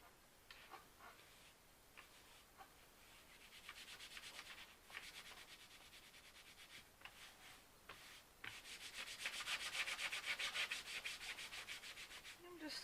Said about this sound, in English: I'm just smoothing it down with my hand